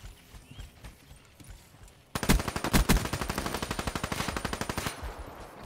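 Automatic gunfire in a multiplayer shooter video game, a sudden loud burst followed by a rapid, evenly spaced stream of shots that slowly softens, after a few quieter sounds.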